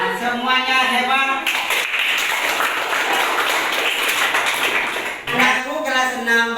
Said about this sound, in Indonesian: Tepuk tangan untuk Raihan.